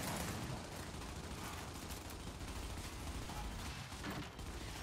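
Rapid gunfire in a ranked Control match of Gears 5, a dense, continuous crackle of shots and mechanical clatter that stays loud and steady throughout without a break.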